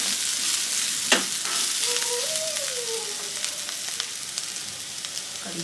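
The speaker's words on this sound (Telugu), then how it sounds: "చివరిగా మరో 2 నిమిషాలు కూడా ఫ్రై చేసుకున్నాం కదా" Potato and cluster bean stir-fry sizzling in a pan, a continuous close crackle with occasional spatula scrapes and clinks, no voices.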